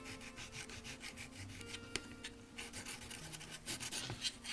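A file rasps back and forth over the rough metal edges of a Nikon Nikkor 35mm f/2 lens during a non-Ai conversion, giving quiet, close, rhythmic scraping strokes with brief pauses between them.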